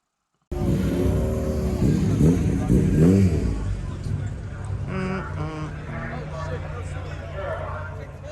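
A BMW 335i accelerating down a drag strip on its pass, a loud engine rising in pitch through the gears with revving harmonics, heard fairly close, with people talking over it.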